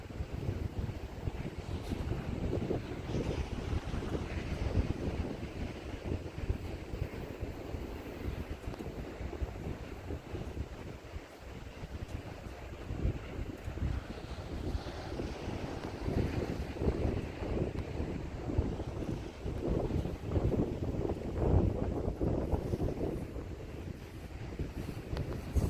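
Big winter ocean waves roll in at Wellfleet beach on Cape Cod, a steady loud wash of surf mixed with strong wind buffeting the microphone, continuous and unbroken with no voices.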